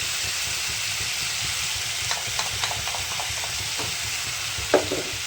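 Spice paste with tomato paste frying steadily in a pan with a continuous sizzle, while a spoon stirs it in a few scattered scraping knocks near the end; no one speaks.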